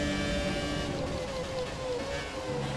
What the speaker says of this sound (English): You can hear that F2002 in front of us.